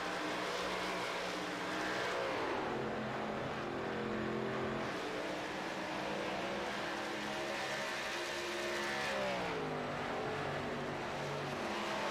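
Race cars circle an oval track at Texas in a sim racing game, engines droning and rising and falling in pitch as cars pass, a steady loud roar throughout with no talk.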